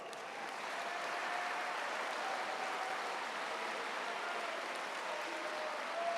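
A crowd at a high school day assembly applauds to honor a guest, a broad, continuous roar of many clapping hands, fairly distant and even in level from start to finish.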